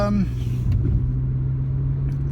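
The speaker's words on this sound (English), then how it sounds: "I'm going on a little trip in my little car, my little old and worn car" An old, worn little car drives along with a low, steady engine rumble and hum, heard from inside the cabin while a person talks over it.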